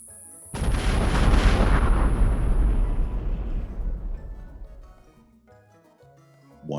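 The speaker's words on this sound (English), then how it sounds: "Sure is unfortunate that they all decided to explode in unison for no discernible reason." A loud, close explosion erupts suddenly and rumbles into a long decaying roar that fades over several seconds, leaving near silence, with no voices.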